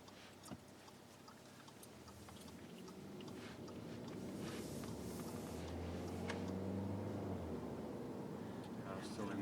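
The 1.4-liter turbocharged four-cylinder engine of an Audi A3 e-tron plug-in hybrid starts up during a drive. A low, faint drone swells midway and holds steady inside the cabin.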